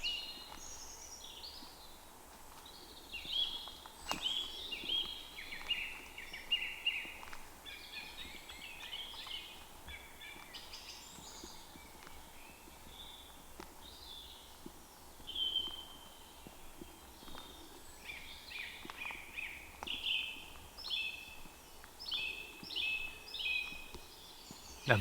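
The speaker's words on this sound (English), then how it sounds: "surrounded by beautiful wildlife and birdsong" Birds sing in woodland beside the River Wye: repeated chirping phrases and trills from several birds, moderately distant, over a quiet outdoor hush with no talking.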